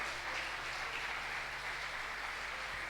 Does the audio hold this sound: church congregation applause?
yes